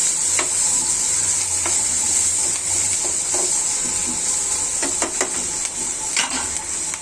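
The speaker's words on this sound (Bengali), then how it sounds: "মাছটা একটু ভেজে নিচ্ছি" Pieces of rui fish frying in a pan give a continuous bright sizzle, with scattered stirring clicks and small spatters throughout, steady and close.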